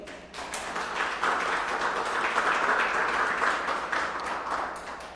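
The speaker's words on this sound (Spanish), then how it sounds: "Den un aplauso al Señor" A church congregation applauding continuously, a dense crackle of many hands clapping that swells and holds for several seconds, somewhat distant.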